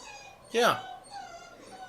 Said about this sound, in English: Can you hear my dog whining?